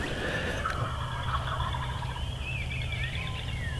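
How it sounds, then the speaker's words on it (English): Wild turkey toms gobble in the distance along a creek bottom over a steady outdoor hum, with faint bird calls, including barred owls, layered in the background. "I can hear hens down along the creek bottom. There's toms back in there with them."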